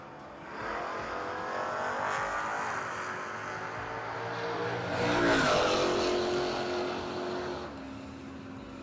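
Drag race cars with a 3rd gen Camaro chasing launch hard in a no-box 660 shootout, their engines roaring loudly and steadily as they rev and accelerate away, with a brief tire squeal partway through.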